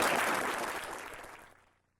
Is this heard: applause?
yes